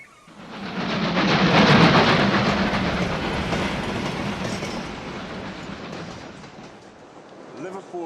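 A train rumbles and clatters through Liverpool Street Station in London, a loud, sustained rolling roar with clickety-clack that swells early and slowly fades, ending with a faint squeal.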